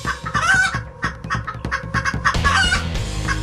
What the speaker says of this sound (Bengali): আরে আমার মুরগিগুলো ডাকছে কেন